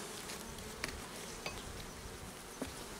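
Honey bees swarm over a hive frame in an apiary, a dense continuous buzz close by, broken by a few faint wooden knocks.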